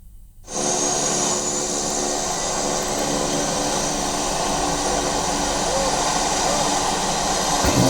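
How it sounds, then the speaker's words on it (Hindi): A small aircraft's engine running before takeoff at the launch of a tourism air service, a loud, steady roaring whine that starts abruptly after a brief pause and holds continuously, with a voice underneath. "अब विमान तैयार हो चुका है और उड़ान भरने की तैयारी"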